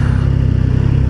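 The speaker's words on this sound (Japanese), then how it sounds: "このエグゾーストがね、自分の知ってる675エンジンとはもう似て非なるもので" Exhaust of a Triumph Tiger Sport 660 motorcycle with a three-cylinder 660 engine, heard close and loud as a steady, throbbing mid-pitched drone with a rapid pulsing beat and no talking.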